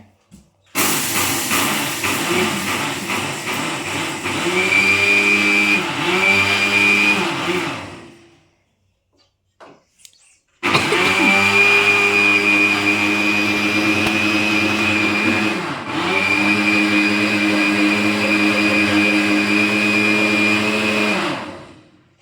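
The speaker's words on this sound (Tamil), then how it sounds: "2 கிளாஸ் பொட்டுக்கடலை 2 கிளாஸ் அரைக்கணும்" A mixer grinder whirs loudly as it grinds roasted gram (pottukadalai), running about seven seconds, stopping briefly, then starting again for another ten or so, its pitch dipping as the load shifts.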